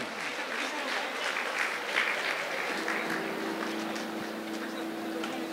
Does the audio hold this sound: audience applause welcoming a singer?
yes